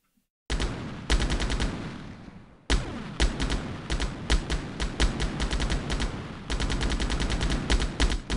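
Rapid automatic gunfire in the Delta Force video game, loud close bursts of machine-gun shots in long rattling strings, broken by a short pause and then resuming at full intensity.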